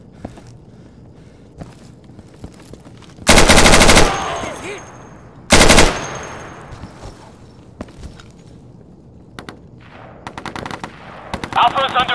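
Two loud, close bursts of automatic gunfire in the tactical shooter Insurgency, separated by a quieter stretch of faint clatter and footsteps. Several short, sharp shots and gear noises follow near the end.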